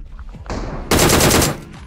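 Rapid automatic gunfire from a shooting video game, a loud close burst lasting about half a second after some softer game sounds.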